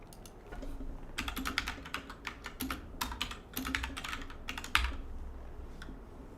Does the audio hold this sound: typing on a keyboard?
yes